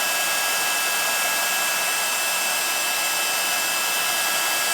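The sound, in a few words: heat tool blowing hot air to emboss stamped flowers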